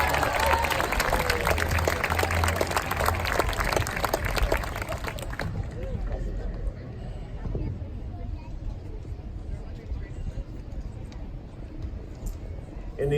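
Audience applause for students at a middle school promotion ceremony, loud dense clapping for about five seconds before it thins out into scattered claps and murmuring crowd noise.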